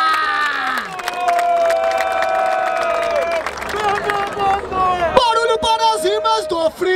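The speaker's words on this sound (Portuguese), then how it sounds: "Palmas nessa batalha!" An audience at a freestyle rap battle in Barueri, São Paulo, roars with cheers, shouts and some clapping, loud and sustained, with whoops and yelled voices rising above the din near the end.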